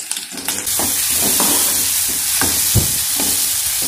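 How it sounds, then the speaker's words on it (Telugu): Onions fry in hot oil for a Meal Maker masala curry, a loud, continuous sizzle close up, broken by several scraping stirs of a utensil against the pan. "సో ఇప్పుడైతే ఆనియన్ అయితే మంచిగా వేగుతున్నాయి"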